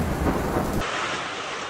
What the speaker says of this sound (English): Flooding and then heavy rain with huge hail destroyed cars.